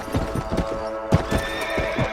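A horse neighs loudly while hooves clop in quick, close steps in the game Red Dead Redemption, the sounds overlapping in a short burst.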